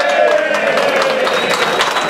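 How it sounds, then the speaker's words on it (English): An audience at a political meeting applauds with a dense wash of clapping, mixed with cheering voices and crowd noise, loud and close throughout. "And give her a round of applause"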